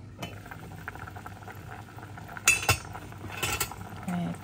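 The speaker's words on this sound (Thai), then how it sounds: "แล้วก็ต้มไปจ้ะก็ต้มไปประมาณครึ่งชั่วโมงนะจ๊ะ" Chestnuts simmer in a pot with a continuous burbling boil, broken by a few metallic clinks and scrapes of utensils against the cookware, heard close up with no speech.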